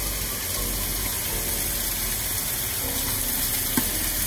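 Beef steak sizzling in a pan on the stove with thyme, rosemary and butter, a steady broadband hiss of frying held throughout, with a brief sharp tick near the end.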